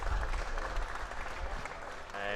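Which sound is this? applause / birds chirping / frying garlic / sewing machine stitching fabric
applause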